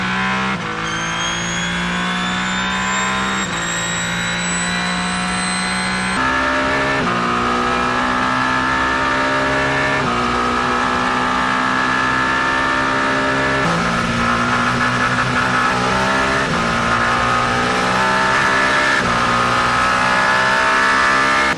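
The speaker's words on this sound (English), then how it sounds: "Hypercar qualifying has started." Hypercar race cars scream past during qualifying at Monza, loud sustained engine notes rising and falling through gear changes as one car follows another, with no talk over them.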